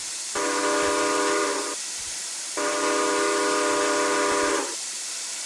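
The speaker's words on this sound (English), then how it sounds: "let's just hear it again with the 5405 locomotive" Steam whistle of American locomotive 5405 in the RO-Scale Sandbox train game, two long steady chime blasts of about one and a half and two seconds, separated by a short pause, sounding clear and prominent with no talk.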